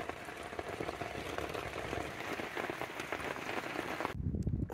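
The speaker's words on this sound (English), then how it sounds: "That's a lot of rain that we got." Heavy rain falls on surfaces at a lakeside campsite at Crocodile Lake, a dense, steady patter that continues evenly for about four seconds and then cuts off abruptly.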